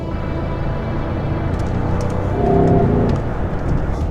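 An Audi SQ7 facelift luxury five-seat SUV with its petrol V8 accelerates on narrow roads, a deep steady rumble from inside the cabin that swells in the middle, then eases slightly.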